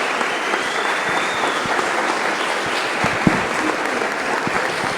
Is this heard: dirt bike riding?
no